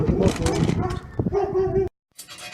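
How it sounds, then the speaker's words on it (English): A neighbor's dog barks in an alley, giving a few quick, close, sharp barks and yips mixed with someone talking, followed by a brief silence and a softer bark. "That's why the dog's barking."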